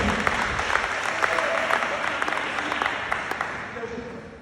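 A church congregation breaks into enthusiastic applause acclaiming Jesus, steady dense clapping with scattered louder claps and some voices mixed in throughout.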